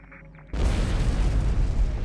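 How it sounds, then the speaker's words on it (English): A sudden loud explosion in the Star Trek Online space game, a sharp blast that bursts out of near-silence and rolls on as a dense, roaring rumble. "That was quite an explosion."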